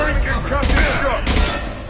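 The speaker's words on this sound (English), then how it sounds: "Firing concussive shot!" A concussive shot fires in Mass Effect 2 combat, a loud close blast layered with surrounding gunfire, while a voice calls out over it.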